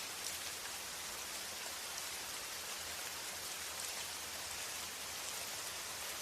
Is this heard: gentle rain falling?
yes